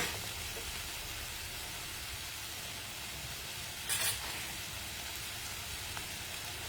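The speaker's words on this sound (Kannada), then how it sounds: "ಫಸ್ಟು ಚಿಲ್ಲಿ ಸಾಸ್ ಆ್ಯಡ್ ಮಾಡ್ತಾ ಇದ್ದೀನಿ." Chili sauce sizzles in a hot pan with a continuous hiss, and a brief sharper burst of crackle lands near the middle as more sauce hits the metal.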